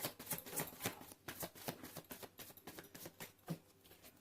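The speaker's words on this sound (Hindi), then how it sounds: "This is my last shuffle." Tarot cards are shuffled by hand, a quiet quick run of soft riffling pats and flicks repeating in close succession.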